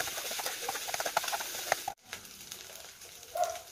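White onion and garlic sizzle and crackle in a hot pan as they are stirred, a steady close frying hiss that dips briefly midway before resuming, with no talking.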